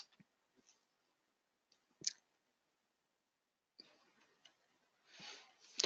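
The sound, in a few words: typing on a computer keyboard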